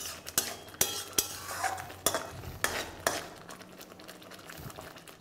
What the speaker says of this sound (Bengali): এবার আপনারা গ্যাসের ফ্লেমটাকে মিডিয়াম রেখে ভালো করে এটাকে একবার ফুটিয়ে নিন।